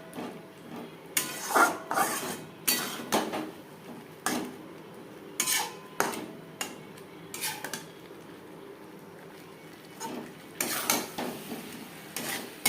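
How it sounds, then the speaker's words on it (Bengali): Potatoes being mixed into spice masala in a pan for vegetarian alur dum, a utensil scraping and knocking against the pan in irregular clinks and scrapes, fairly quiet and close with no talk. "মশলার সাথে আলু বেশ ভালো করে মিক্সড করে দেবো।"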